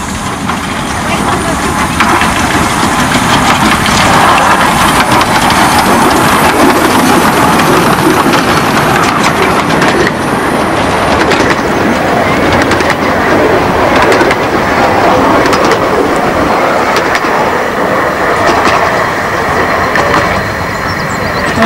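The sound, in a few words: miniature railway train engine running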